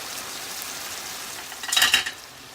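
Shrimp frying in a pan for garlic shrimp pasta, a steady close sizzle that swells briefly with a stir near the end, no voices.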